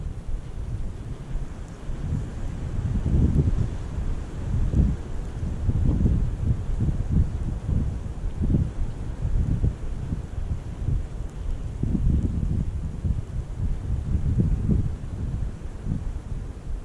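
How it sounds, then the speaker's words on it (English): Strong wind gusts buffeting the microphone beside a fishing pond, a steady low roar rising and falling in surges throughout, with no voices. "Got so windy."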